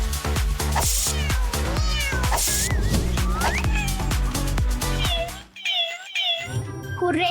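A cat meows repeatedly in a rapid series of loud, close calls over busy background music, with a brief pause near the end before more sound resumes.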